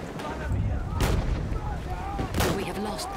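Gunfire in the Battlefield 1 video game, a few loud booming shots cracking out over a dense din of battle noise, with a player talking in between.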